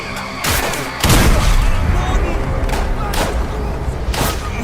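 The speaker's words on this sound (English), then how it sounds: "Here's what happens when getting shot by a shotgun close range" Close-range shotgun blasts in the World War II shooter Call of Duty: Vanguard, several sharp, loud booming shots at irregular intervals over dense battlefield noise, with no talking.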